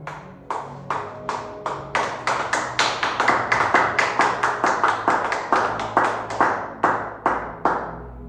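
A church congregation claps in a steady, rhythmic beat, loud and close, dozens of crisp claps in a row that swell in the middle and thin toward the end, with no speech.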